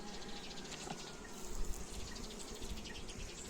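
A low, continuous buzz of a honeybee colony humming together, steady and moderately faint, with no voices.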